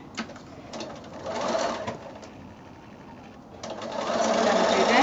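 Sewing machine stitching a quarter inch seam on quilt bias binding, running in close rhythmic bursts that speed up and ease off, with a voice speaking over it.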